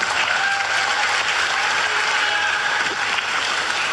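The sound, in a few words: audience applause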